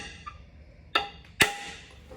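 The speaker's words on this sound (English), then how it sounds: "I like to use a brass chisel. Go ahead and tap the bottom of it." A brass chisel taps the keyway holding the impeller on a Yamaha 250 four-stroke outboard water pump, two sharp metallic clinks close by in a quiet workshop, with faint light ticks around them.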